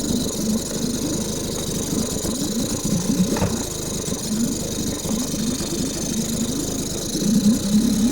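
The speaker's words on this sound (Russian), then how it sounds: "Вот что значит мотор Меркури." A Mercury outboard boat motor running just after starting, a steady mid-pitched drone with a slight rattle and vibration, close and continuous without speech.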